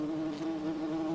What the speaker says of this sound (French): C'est sympa une abeille au ralenti